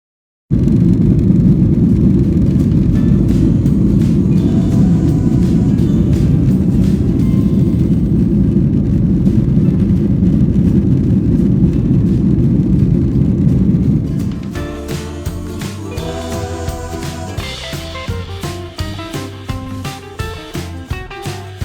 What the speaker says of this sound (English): I got some clips I can put in here from when I was on the plane for you guys to see.